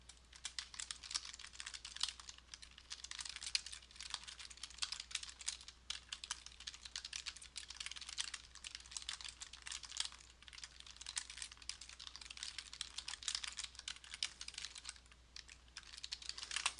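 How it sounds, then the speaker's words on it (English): Steady rapid keystrokes on a computer keyboard as sentences are typed, a continuous close clatter of quiet clicks with no talking. "I'm going to type a few sentences here so we have some text to work with."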